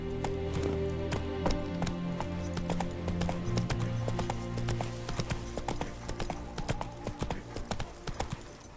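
Horse hooves galloping at a steady clip-clop rhythm as the horse Roach runs in The Witcher 3: Wild Hunt, the repeated beats close and loud over a bed of in-game music and ambience.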